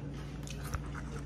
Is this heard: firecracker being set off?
no